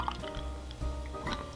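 Pelican Brewing's Bad Santa winter ale pours into a glass, a short liquid splash and gurgle with a few drips, fairly close and moderately loud, alongside faint background tones.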